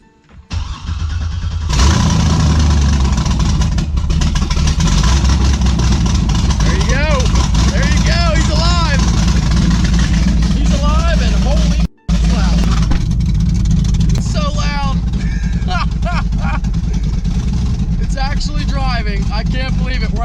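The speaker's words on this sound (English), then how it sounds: "let me give you one outside startup on the car." A McLaren 720S engine fires up outdoors with a loud roar, then settles into a steady, heavy idle that continues throughout, while someone talks over it.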